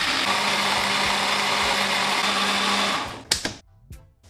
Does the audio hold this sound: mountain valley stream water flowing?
no